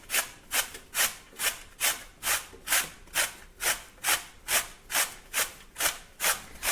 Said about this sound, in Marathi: इथे किसणीवर आता आपल्याला हे रताळ किसून घ्यायचे आहे